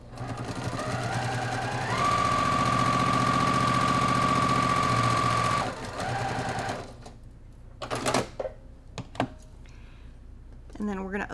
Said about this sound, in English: So I'm gonna sew these